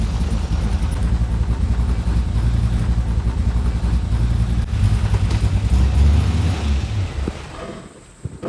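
Small block Chevy Nova engine idling with a choppy, lumpy tune, a loud, close, low rumble that lopes unevenly for several seconds before fading near the end.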